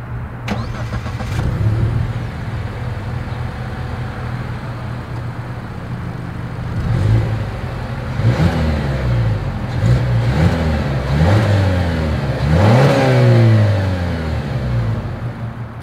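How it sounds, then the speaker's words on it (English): A 2023 Range Rover Velar exhaust heard up close: the engine cranks and starts, settles to a low idle, then gives a series of sharp revs that climb and drop in quick succession. "As always, here is that exhaust clip."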